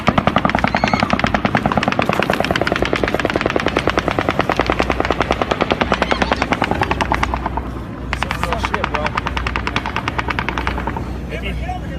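Rapid automatic gunfire rattles in long continuous bursts, loud and close, with a helicopter-like throb underneath and brief gaps between strings of shots.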